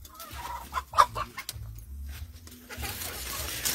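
Chickens cluck in short, uneven bursts, fairly close, with a louder squawk about a second in and a low background rumble.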